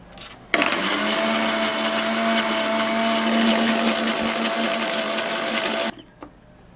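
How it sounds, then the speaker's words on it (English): An electric blender whirring steadily for about five seconds as it blends onion and banana, switched on abruptly and cut off sharply, loud and close with a constant high mechanical drone. "we'll blend"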